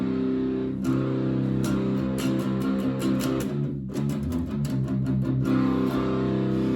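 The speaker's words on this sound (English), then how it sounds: "overdrive sounds like this" Overdriven electric guitar plays a chugging riff with repeated strummed chords and a brief pause midway, loud and continuous with no voices.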